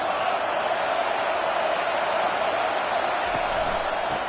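A stadium crowd at an Auburn vs Oklahoma football game makes a steady, loud roar that fills the space without breaks, with faint whoops poking through the wash of noise.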